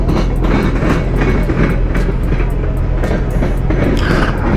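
A train rolls past nearby in Mansfield, Ohio, a loud steady rumble with rhythmic clickety-clack of wheels over rail joints and a windy outdoor backdrop.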